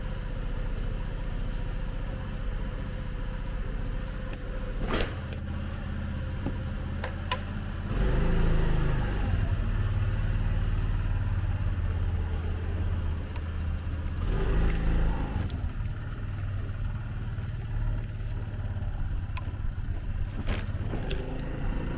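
A small Honda Navi motorbike hums along at riding speed, its little engine droning steadily with occasional revs rising and falling and wind noise around it, close to the rider.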